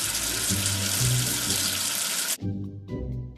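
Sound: water washing soap off in a kids' game

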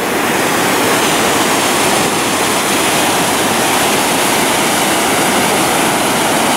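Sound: roaring river rapids and spray at Fällfors waterfall, Sweden

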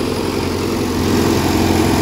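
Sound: JCB backhoe swing motor running

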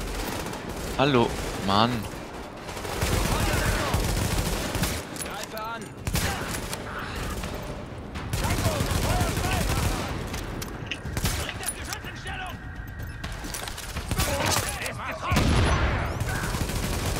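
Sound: gunfire in video game Tom Clancy's The Division

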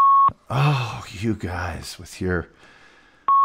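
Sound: beeps

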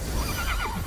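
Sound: horse neighing in the video game Immortals Fenyx Rising

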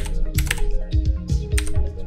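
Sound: typing a video comment on a computer keyboard

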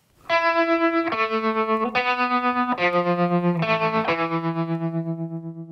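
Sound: electric piano with fuzz and tremolo effects

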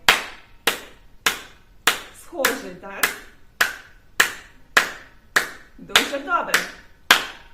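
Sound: hand clapping imitating a tambourine

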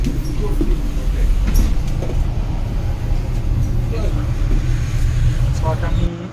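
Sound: train starting to move, heard from upper deck

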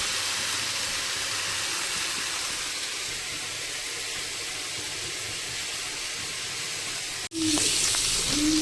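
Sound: pointed gourd (potol) frying in oil in a wok

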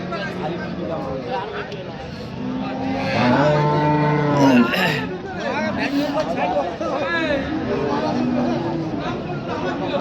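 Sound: cow mooing at cattle market

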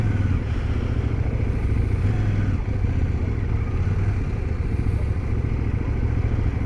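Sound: motorcycle riding on a dirt road

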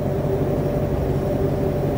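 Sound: white noise from a running car

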